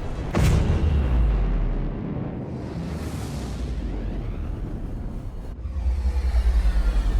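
In the space game Star Citizen, weapon fire strikes a spaceship's shields with deep booming impacts and a sustained heavy rumble. One sharp hit opens the sequence, a whooshing surge follows, and the sound swells again near the end.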